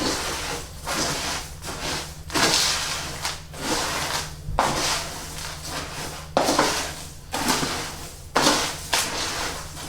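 Mealworms stirred into dry winter bird feed in a mixing bowl, with repeated close gritty rubbing and scraping strokes arriving in uneven bursts, no voices.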